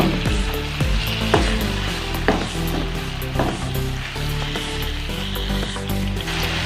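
Tomatoes drop into softened onions already frying in a pan, giving a loud, steady sizzle with faint stirring scrapes throughout, no voices.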